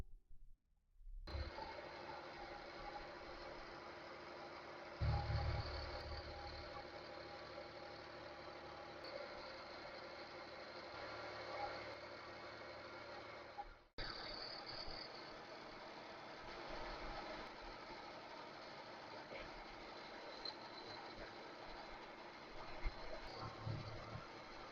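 A lathe fitted with a homemade tool post grinder takes careful light cuts on a spindle clamp wedged on a taper, giving a steady mechanical hum and whine. The tone briefly cuts out and restarts midway, with no talking.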